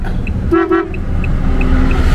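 A car horn gives two short honks on a street in Rabat, Morocco, set against steady road traffic, followed by a few faint high toots in the background.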